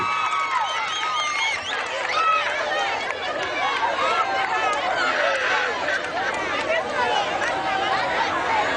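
An audience at an oratory debate competition cheers and applauds, with high excited voices and whoops over a steady bed of clapping and crowd noise, sustained at full volume throughout.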